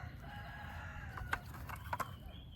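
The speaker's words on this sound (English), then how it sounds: "Let me go and get these roosters." Roosters crowing in an urban backyard garden on a rainy day, two short crowing calls standing out over a steady low rumble of background noise.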